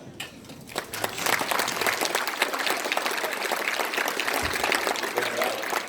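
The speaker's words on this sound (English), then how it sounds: "please stand up so you can give them applause" Steady applause from a concert audience for a high school band at a Christmas concert, a dense, even wash of many hands clapping that swells in within the first second and carries on strongly throughout.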